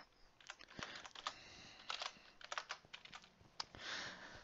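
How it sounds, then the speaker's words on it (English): A loud computer keyboard clacks in irregular bursts of close, sharp keystrokes, with quick clusters and short pauses, heard alone without talk during an online game session. "My keyboard is loud."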